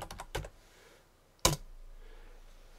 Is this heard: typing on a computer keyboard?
yes